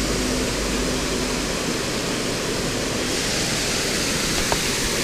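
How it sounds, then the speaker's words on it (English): Steady rain falling by a creek in Ohio, a dense, even hiss filling the whole stretch with no voices. "all this rain wasn't supposed to happen today"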